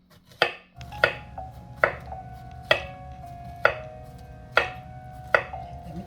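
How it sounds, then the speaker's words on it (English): A knife dices green plantains on a cutting board, eight sharp chops spaced about a second apart and each ringing briefly, close and clear with no talk. "I'm going to dice them here because I'm going to put them in my blender."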